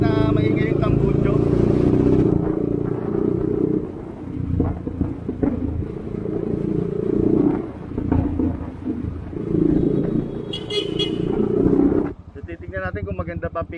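A Rusi Sigma 250cc motorcycle with a loud exhaust rumbles while being ridden. The deep, throaty drone rises and falls with the throttle under someone talking in Filipino, then drops sharply near the end.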